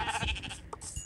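Minecraft sheep bleating in the video game, a short wavering bleat followed by a brief second call, clear and close with no voices.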